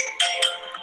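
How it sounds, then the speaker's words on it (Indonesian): A phone ringtone sounds indoors, a short, loud electronic chime with two bright rising notes over a steady tone, clear and close with no other sound around it. "Sebentar saya angkat telepon."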